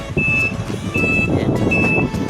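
A Davao Metro shuttle bus backs up, its reversing alarm beeping in three evenly spaced tones over a loud rumbling engine and outdoor street noise.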